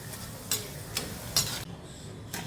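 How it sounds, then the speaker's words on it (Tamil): Sweet potato pieces frying crisp in hot oil, a steady close sizzle broken by a few brighter crackling bursts as the pieces are stirred. "நல்லா ப்ரௌனாக கிறிஸ்பியாக ஃப்ரை பண்ணிக்கணும்"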